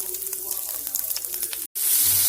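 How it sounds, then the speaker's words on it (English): Onions fry in a pan with a constant close hiss and crackle before a brief dropout, then the sizzling returns louder. "I have my onions frying, as you can see."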